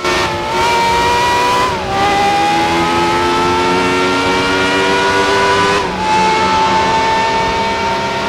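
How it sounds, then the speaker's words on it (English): A Peugeot 905 V10 race car engine screams at high revs around the Monza circuit, a loud continuous wail heard onboard with two brief dips for gear changes. "The V10 sounds absolutely amazing"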